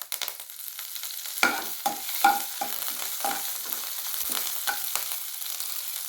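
Mustard seeds and urad dal splutter in hot oil with curry leaves, giving a continuous crackling sizzle with several sharper pops and spoon scrapes scattered throughout.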